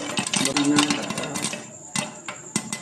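Popcorn kernels pop in a covered pan, with sharp clinking taps against the lid and pan sides, several bunched together early and then scattered hits, close up.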